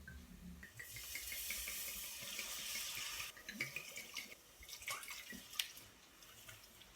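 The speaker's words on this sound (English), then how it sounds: "about 250 millilitres of dry white wine into this pan now" Dry white wine poured into a hot pan for French onion soup, a steady close splashing, trickling stream that continues for several seconds, then gives way to softer sizzling and a few small clinks and drips.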